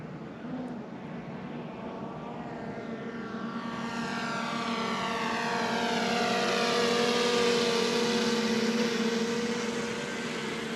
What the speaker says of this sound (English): We'll let the drone do the work.